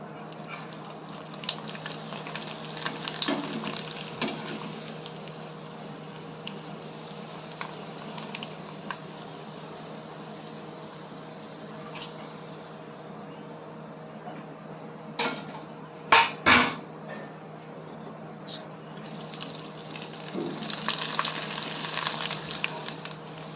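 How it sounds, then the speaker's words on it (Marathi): Kurdai, Maharashtrian wafers, frying in hot oil in a kadhai on a gas stove: a steady close hiss and crackle throughout, with a few sharper clatters of utensils near the middle and the sizzle rising again toward the end. "आता आपण आपली कुरडई तळून घेऊया."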